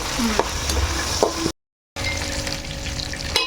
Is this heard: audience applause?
no